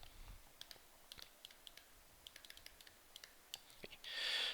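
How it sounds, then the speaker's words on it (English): Light keypresses tapped on a calculator, a scattered run of soft, quick clicks at close range, faint and uneven in rhythm, ending in a brief hiss. "let me type that into the calculator"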